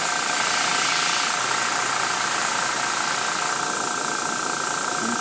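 Compressed air blasts out of an air compressor tank through a fully opened valve, a loud, steady broadband hiss that continues without a break, with no voices.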